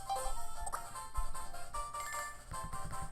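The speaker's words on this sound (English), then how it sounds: "My phone went off a little bit." A phone ringtone sounds briefly at low level, a few short melodic tones over steady background noise, with no voices heard.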